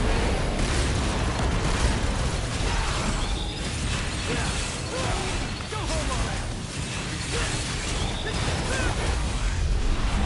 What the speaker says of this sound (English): Nice DT explosion.